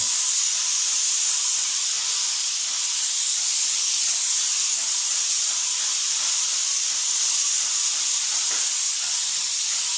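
A paint sprayer applies primer to new drywall with a steady, continuous high airy hiss that holds at an even loudness throughout, close by and without any talk.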